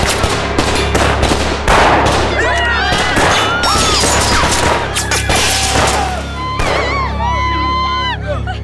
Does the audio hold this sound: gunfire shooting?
yes